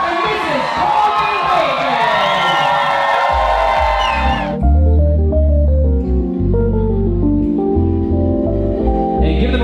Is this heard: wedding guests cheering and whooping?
yes